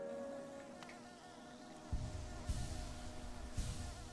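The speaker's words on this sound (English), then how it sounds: "Back to the bees." A faint, steady insect-like buzz drones through the Hive area of the Hollow Knight video game, with a few soft thumps surfacing in the second half.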